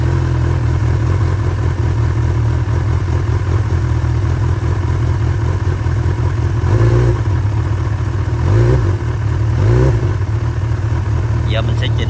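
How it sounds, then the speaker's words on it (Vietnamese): A 2021 Honda CB1000R motorcycle engine idles steadily in neutral, revving up in a few short bursts near the end, loud and close throughout. "Mình sẽ về N và nổ máy lên để xem thử cái vòng tua nó chạy như thế nào"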